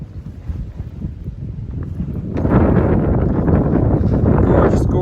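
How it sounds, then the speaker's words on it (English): Strong wind buffeting the microphone on the Springer Mountain summit in Georgia, the southern end of the Appalachian Trail: a loud, roaring rush that swells sharply halfway through and then holds steady. "It's windy up here."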